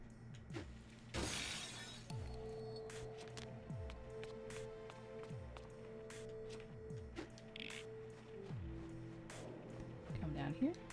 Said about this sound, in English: It wants me to break the glass.